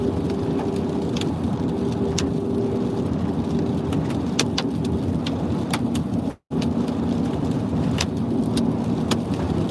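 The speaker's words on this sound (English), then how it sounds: "Starting to get hail. I hear it, yep." Hail pelting a car during a storm chase in southwest Kansas, a steady dense patter of hits with sharp louder impacts scattered throughout, alongside heavy rain and a thunderstorm rumble. It runs continuously with no talking, apart from a brief dropout.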